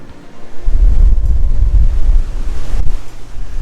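Strong, cold wind on the deck of the Caribbean Princess cruise ship buffets the microphone in loud, low rumbling gusts, with a broad outdoor roar behind it and no voices.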